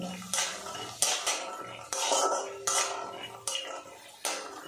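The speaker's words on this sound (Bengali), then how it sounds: "এই সময় কিন্তু গ্যাস রেটটা একদম কমিয়ে রাখবো, দিয়ে অনবরত নাড়াচাড়া করে নেব।" A utensil scrapes and knocks around a pan as peanuts fry in oil over a low gas flame, with several distinct stirring strokes about every half second to second, fairly close and without talk.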